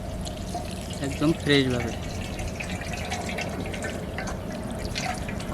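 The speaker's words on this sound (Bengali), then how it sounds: "আমরা এখন চিকেনটা ভালোভাবে পরিষ্কার করে নেব," Water drips and trickles while a whole chicken is rinsed for a clay-covered mud chicken recipe, soft and close beneath a person talking.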